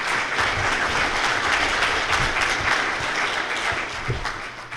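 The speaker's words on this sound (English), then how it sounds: "so please give him a big round of applause." A conference audience applauds a speaker being introduced for a talk, with dense, steady clapping at fairly close range that fills the whole stretch at an even level and slightly thins near the end.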